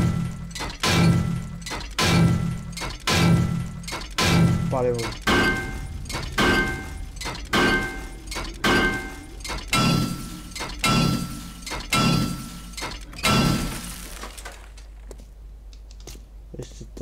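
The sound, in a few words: dismantling a car in video game 7 Days to Die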